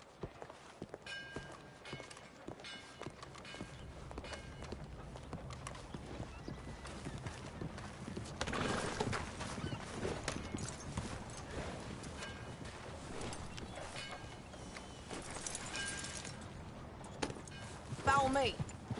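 Horse hooves clip-clop steadily through a PS4 video game ride, a mix of walking and faster running strides, with characters talking over the hoofbeats and a louder burst near the end.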